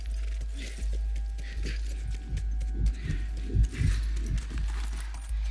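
A horse walks with hollow, rhythmic clip-clop hoofbeats in The Last of Us Remastered, close and steady over a low rumbling background.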